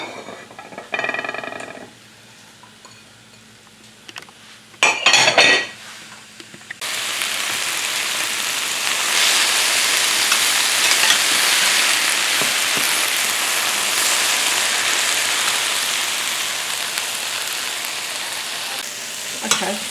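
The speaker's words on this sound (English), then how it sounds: "Put these in there and we're going to saute them until they start to get soft." Food cooks in melted butter in a pan for a loose-meat chicken cheesesteak, starting with a few handling clatters and then settling into a loud, continuous sizzle close by, with no one speaking.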